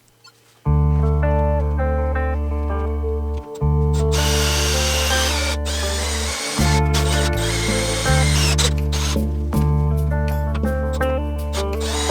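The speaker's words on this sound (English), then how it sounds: "I'm just going to drill a couple of holes in the frame" A power drill whines loudly and steadily, pausing briefly a few times, while its bit grinds and chatters through a vehicle's metal frame, close up.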